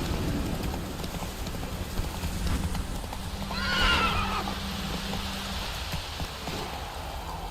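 Horse hooves clopping steadily in The Witcher 3, with a clear neigh rising briefly in the middle over a soft rain-like background, no speech.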